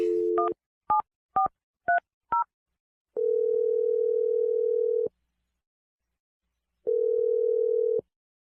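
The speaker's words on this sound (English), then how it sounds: "We're going to dial Ryan's phone number and try and get your second date." Five short touch-tone beeps of a telephone number being punched in, each a brief two-note chirp, followed by two long, steady ringback tones separated by silence, clean and close.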